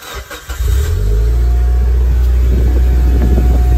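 A Mitsubishi EVO 9 engine cranks briefly and catches, then settles into a loud, steady idle close by, with no talking.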